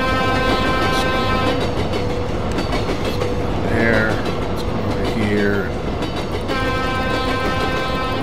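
A train in a video game rumbles past loudly with clattering wheels and sustained horn-like tones, while a person talks over it.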